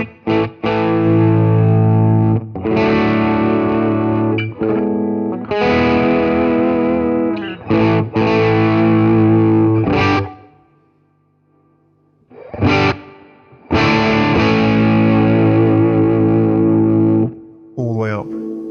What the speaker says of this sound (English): the reverb is probably one of the best reverbs I've heard on any combo